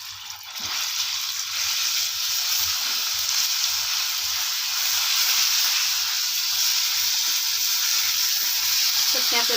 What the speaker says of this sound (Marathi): मस्त असं जिरं सुद्धा भाजले